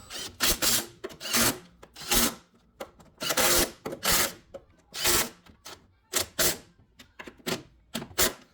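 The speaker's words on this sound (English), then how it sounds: "So we're gonna go ahead and tighten these down." Control arm bolts being tightened on a 2005 Acura RL, heard as repeated close ratcheting and wrench bursts in quick rhythmic runs with brief pauses between strokes.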